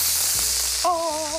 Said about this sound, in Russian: Вот я теперь этот лук сейчас обжарю на все том же топленом сливочном масле, на большой сковородке.